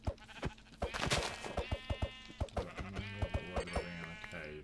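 Sheep in the Minecraft 1.15.2 video game bleat repeatedly in short, rhythmic bursts, several overlapping calls at close range, with sharp percussive thuds between them.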